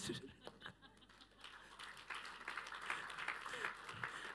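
Audience applause builds into dense clapping, mixed with chuckles and laughter from the crowd, with some talk underneath at the start.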